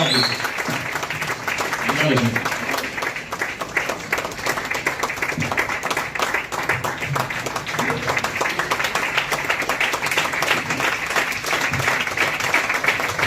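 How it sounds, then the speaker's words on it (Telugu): A crowd applauds steadily with dense, continuous clapping, with some voices mixed in underneath, as an achiever is welcomed onto the stage at a sales event. "గట్టిగా క్లాప్స్"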